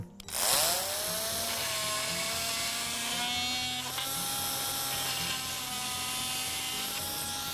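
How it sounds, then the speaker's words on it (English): Oscillating saw cutting into board, a loud, steady high-pitched buzzing whine that starts abruptly and holds a constant pitch with a slight wobble throughout. "Then using the oscillating saw to do the cut."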